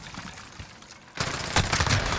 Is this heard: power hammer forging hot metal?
no